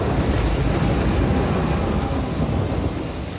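A heavy, continuous roar of thunder mixed with dense rain in The Walking Dead video game, loud and broadband, with a steady rumbling wash and no speech.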